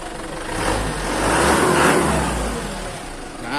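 A used Isuzu Elf minibus diesel engine runs with a steady mid-pitched drone, swelling slightly as it is briefly revved and then easing back, close and continuous with no voices over it.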